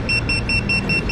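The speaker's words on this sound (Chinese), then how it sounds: "要不然他一直哔哔。" An electronic buzzer beeps in a quick, regular series of short, shrill pulses, sounding close and loud in a hypermarket food court while a chef cooks eggs on an iron plate.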